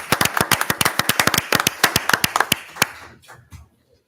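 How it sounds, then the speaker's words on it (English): Small audience at a regular meeting clapping, sharp close hand claps in a quick uneven patter that thins out and stops after about three and a half seconds. "Let's give a big round of applause"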